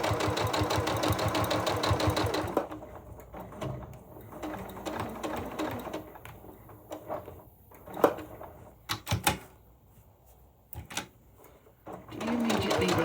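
A sewing machine runs in a fast, even stitching rattle while stitching a quilted pouch, then stops, leaving short clicks, handling knocks and fabric rustles.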